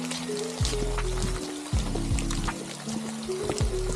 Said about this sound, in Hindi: या तो कोई वाटरफॉल भी है आसपास, क्योंकि तो पानी की आवाज़ दिख रही है वो काफ़ी प्यारी है